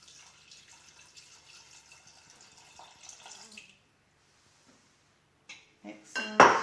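Water pours in a thin steady stream into a Thermomix bowl for a few seconds, then brief clunks and a loud clatter of the machine being handled close by.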